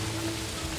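Steady, dense rain falls in the Swiss Alps during a thunderstorm, a continuous close hiss of drops with no talking.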